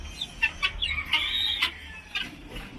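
Chickens kept at home clucking close by, a run of short clucks and a drawn-out squawking call, with faint background noise.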